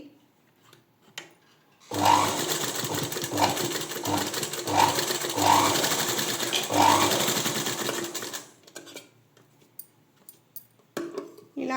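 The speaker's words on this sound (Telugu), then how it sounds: "ఇప్పుడు మనం స్టిచ్ చేసుకోవాలి ఇలా డబల్ స్టిచ్ వేసుకోండి" A sewing machine runs steadily for several seconds, double-stitching folded cloth for dori hangings, its fast mechanical whir close and loud, then stops, with quieter handling noise around it.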